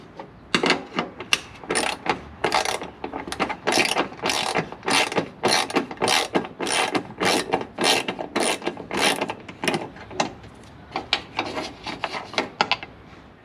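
A hand ratchet clicks rapidly and steadily as it removes the two grille bolts on a 2019 Toyota Tacoma, in dense bursts of close, loud pawl clatter with short gaps between strokes.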